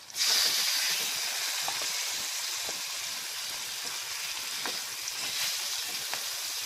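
Onion and tempoyak, fermented durian paste, fry in a pan for sambal tempoyak, giving a loud, steady sizzle and hiss with faint stirring clicks and no talking.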